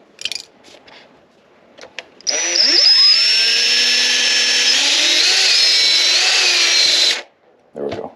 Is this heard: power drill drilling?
yes